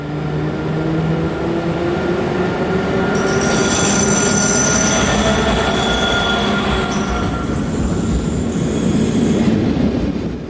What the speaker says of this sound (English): Belgian class 1100 electric number 1187 heads the 1245 from Brussels